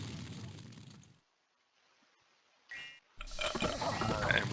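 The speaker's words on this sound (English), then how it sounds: "We have Banefire coming in, which is the little, like, spot explosions." Small spot explosions from the Banefire spell in the strategy game Dominions 5, a burst of crackling blasts after a brief lull, loud and dense with a sharp pop before the final eruption.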